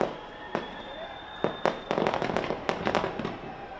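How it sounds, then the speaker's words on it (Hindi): New Year fireworks bursting over Auckland, a quick string of sharp cracks and bangs with a whistling streak, heard from a distance and picking up in density toward the end. "पूरी दुनिया नए साल के जश्न में डूबी हुई और शानदार आतिशबाजी से शुरुआत नए साल की।"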